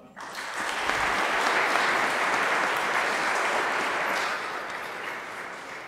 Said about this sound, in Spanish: Y también les damos un aplauso.